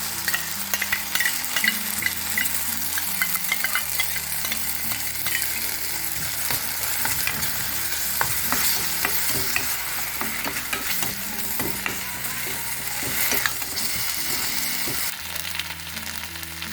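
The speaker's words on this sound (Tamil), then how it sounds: "கொஞ்சம் இஞ்சி பூண்டு பேஸ்ட் போட்டுக்கலாம்." Ginger garlic paste fries in oil in a pan with tempered chillies for a Chettinad-style rabbit gravy, giving a continuous dense sizzle with stirring scrapes, close and steady, while music plays in the background.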